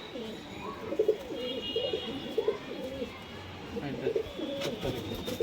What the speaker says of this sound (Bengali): মঙ্গলগিরি এই পায়রা